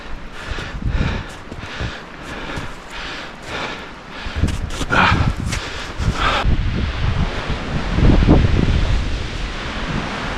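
Strong gusting wind in the White Mountains roars and buffets the microphone in a dense, rumbling rush that swells and eases, loudest near the end.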